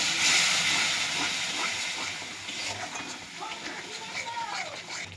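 Water poured into frying masala with coriander powder for a tengra fish curry gives a loud steam hiss that bursts up at once and slowly settles into a softer sizzle, with a voice talking over it.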